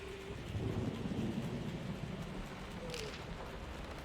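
Steady rain in the video game Layers of Fear hisses in a dense wash of noise, with a low rumble swelling early on like distant thunder.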